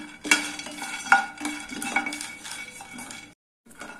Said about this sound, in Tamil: ஃப்ளேம் மீடியமாக வச்சு நல்லா செவக்க வறுத்துக்கலாம்